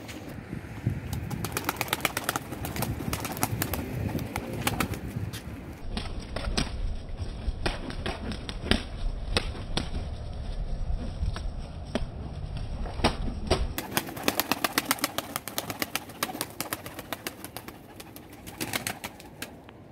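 Tumbler pigeons flying, their wings giving a dense run of sharp flapping claps and clatters, with soft cooing and bird calls mixed in throughout, outdoors.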